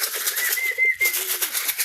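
Pigeons coo in a brief, close burst of throaty calls over a bright, rustling background hiss.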